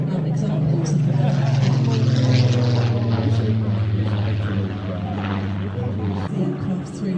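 A propeller aircraft engine drones loudly and steadily at an aviation show, a strong low throbbing hum with a slight pitch shift toward the end, close and continuous.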